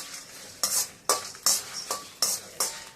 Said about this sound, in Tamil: கைவிடாமல் வறுத்தாதான் கருப்பாகாமல் ஒன்று கருப்பாகாமல் எல்லாம் ஒரே பதத்தில் வரும்.